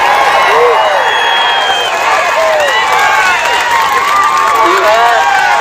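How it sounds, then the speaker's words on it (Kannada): A crowd at a protest by land surveyors demanding minimum wages in Belagavi bursts into loud, sustained clapping and cheering, with voices mixed through the steady roar. "ಸರ್ ನಿಮ್ ಜೋರ ಚಪ್ಪಾಳೆ"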